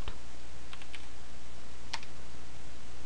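A few sparse, light clicks from a computer keyboard as a command is typed to run a C program, quiet and close against a steady low background hum.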